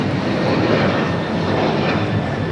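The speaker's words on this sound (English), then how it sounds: "Airlines Flight 6, taking off to Washington Reagan National on the 737-800." An Alaska Airlines Boeing 737-800 takes off at LAX, a dense continuous jet engine roar, loud and steady, with no voices.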